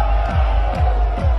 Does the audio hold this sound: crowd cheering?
yes